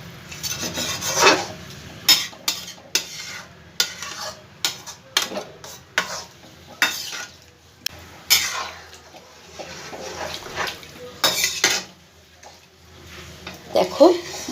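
Dal and soybean mixture with added water is stirred in a pot, a spoon scraping and sloshing in repeated close strokes with brief pauses between them, while a person talks over it.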